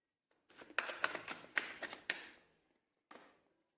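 Tarot cards being shuffled, a quick run of crisp riffling and tapping bursts that stops, followed after a short pause by one more brief shuffle, close and fairly quiet with no talking.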